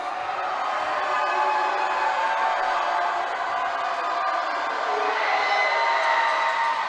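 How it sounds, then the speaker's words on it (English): A basketball arena crowd murmurs and buzzes steadily through a free throw attempt late in a tight game, a dense, continuous wall of chatter and scattered shouts with no single standout cheer. "I'll let you listen to the crowd here on this next attempt"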